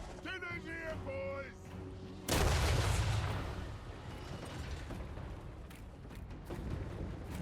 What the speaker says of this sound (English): lovely strafing shots there